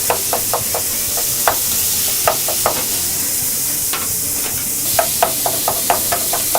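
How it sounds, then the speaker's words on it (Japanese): Doubanjiang chili bean paste and minced meat stir-fried in a pan in a restaurant staff kitchen: a steady sizzling hiss broken by sharp, irregular spatula knocks against the pan, close and clear, with no talking. "豆板醤、ちょっと香りを出して"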